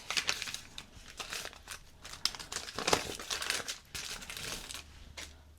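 Thin artist paper crinkles and rustles as it is handled, giving a continuous close run of dry crackles and crisp rustling bursts with no talk over it.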